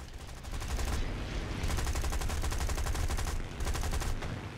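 Dense, rapid automatic gunfire in the War Thunder video game, loud and continuous for several seconds with a sharp rattling rhythm and no talking.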